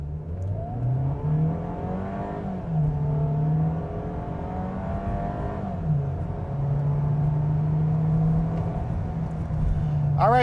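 A 2025 Volkswagen Taos SE in sport transmission mode accelerates hard from 0 to 60, its engine droning loudly as revs climb and drop through several gear shifts, heard from inside the cabin.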